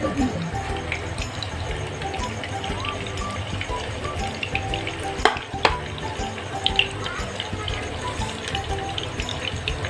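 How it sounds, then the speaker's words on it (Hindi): Steady sizzling of chicken meatballs shallow frying in hot oil, continuous and close, with a few brief clinks partway through. "शैलो फ्राई कर लेंगे ना, हाफ डन हो जाएंगे"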